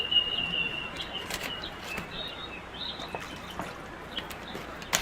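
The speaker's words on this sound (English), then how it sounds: "Those are birds chirping." Faint bird chirps and fluttering wings scattered over a steady broad outdoor background in the morning, with brief high tweets rising above the noise.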